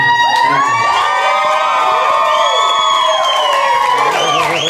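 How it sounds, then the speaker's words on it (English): Wedding guests cheer for the couple's first dance: loud, sustained whoops and shouts from a packed room, with high voices squealing over a steady roar of the crowd. "please give a big cheer for their first dance together"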